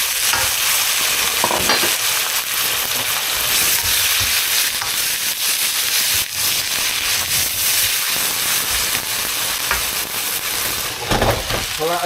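Beef stir-frying in a wok, a loud, close and continuous hiss of sizzling broken by irregular scraping and tossing strokes, with a few clattering knocks near the end.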